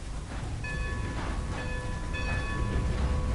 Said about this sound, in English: Поїзд відправляється до станції Сент-Дені